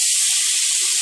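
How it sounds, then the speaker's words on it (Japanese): Well-drained konjac noodles stir-frying in a frying pan for diet sauce yakisoba: a loud, close, continuous hiss of sizzling, steady for the whole moment with no talking. "よーく水気を切ってフライパンで炒めます"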